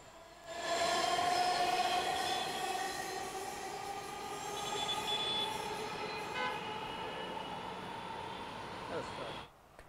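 Metro rail test train running on an elevated line in Dhaka, between Uttara and Motijheel, a steady loud rolling rumble with a rising motor whine that holds for about nine seconds before cutting off abruptly.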